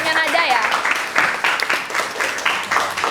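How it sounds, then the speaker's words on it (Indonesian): Students in a classroom clap for a presenting group, giving a brisk, uneven patter of hand claps with a voice talking over it. "Boleh tepuk tangan dulu ya"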